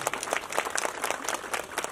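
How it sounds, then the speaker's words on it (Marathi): A festival audience claps for the dancers in a dense burst of applause, close and continuous for a couple of seconds with no talk over it. "एकदा त्यांच्यासाठी टाळ्या वाजूया"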